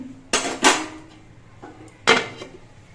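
A metal lid is set onto a cooking pot of bele fish in mango kasundi with raw mustard oil: two quick clanks, a soft tap, then a louder clank with a short rattle, all close by in a quiet kitchen.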